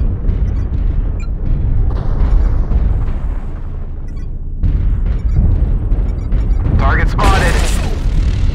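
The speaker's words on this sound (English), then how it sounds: "Artillery strike activated." Artillery strikes land in a tank video game, with rumbling booms and blasts layered over constant engine and battle noise, loud and close, plus a swelling burst near the end.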